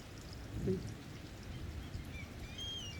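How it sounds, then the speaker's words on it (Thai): Rain falls softly and steadily outdoors in a quiet rural setting, a faint continuous patter with a slight swell near the start and faint bird calls toward the end. "ที่นี่ฝนตกแหละ"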